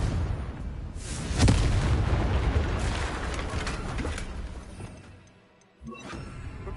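A Confringo explosion spell goes off in the video game Hogwarts Legacy. It lands as a loud, rumbling blast that rolls on for several seconds, fades briefly, then a second impact hits near the end.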